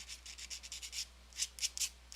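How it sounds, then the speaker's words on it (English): Sandpaper rubs against metal to take off burrs, a quick run of short, rhythmic scratchy strokes, close and fairly quiet, with a brief pause before a few more strokes. "If you need to do any kind of sanding to take off any of the burrs, do that too."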